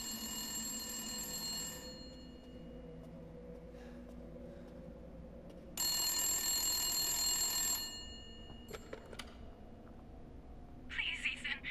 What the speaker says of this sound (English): I remember this phone.